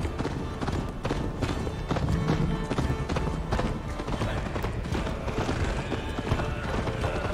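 Galloping horse hooves in the Viking-era game Assassin's Creed Valhalla pound in a dense, continuous drumming during a race toward Jorvik, close and loud, with voices talking over the ride.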